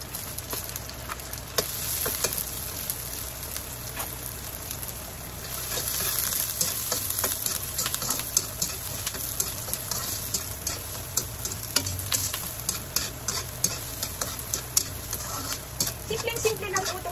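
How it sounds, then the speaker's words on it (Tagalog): Garlic and onion sautéing in a pan for a vegetable bopis, a steady close sizzle with frequent clicks and scrapes of stirring throughout, no talk heard. "igisa na po natin ang bawang. Okay, then sibuyas, sama na po natin."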